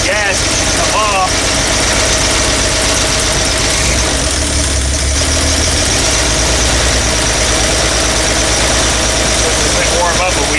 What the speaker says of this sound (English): Does not sound like it's running on all 6 cylinders.